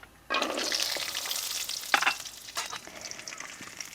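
Peanuts hit hot oil in a pan for poha with a sudden loud burst of frying sizzle that settles into a steady, crackling hiss, with a few sharp pops and stirring sounds close by.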